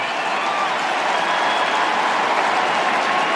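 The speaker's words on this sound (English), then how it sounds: "A cheer for Harley Reid as he comes to the bench." An Australian football crowd at a 2024 West Coast versus Fremantle match cheers as Harley Reid comes to the bench, a steady, even roar of many voices and clapping heard from within the stadium.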